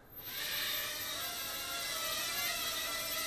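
A Hubsan X4 H107L Special Edition Neon Green quadcopter spins up its motors into a steady, close, high-pitched whine that holds evenly for about three seconds.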